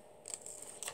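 Scissors snipping paper while making a secret notebook, a few crisp cuts close up, fairly quiet.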